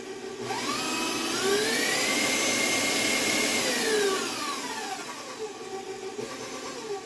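An electric mixer runs on low speed in a bowl of blueberry muffin batter. The motor gives a steady, close whine that swells in pitch, holds, then eases back down, with no voices.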